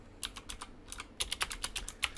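PHP code is typed on a computer keyboard in quick, uneven bursts of close, crisp keystrokes, with brief pauses between clusters and no talking.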